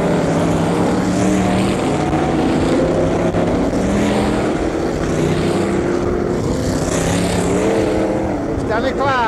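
A pack of stock cars races at Hednesford Hills Raceway in 1990, engines roaring continuously and loudly close by as the field restarts, with a commentator's voice running over the din.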